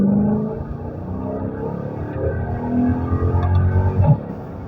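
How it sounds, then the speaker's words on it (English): A Mercedes SLK55 AMG engine pulls hard in third gear, a loud, rising drone heard from inside the car that climbs steadily in pitch to a peak near the end, with no speech over it. "That is unbelievable, insane acceleration. And the noise."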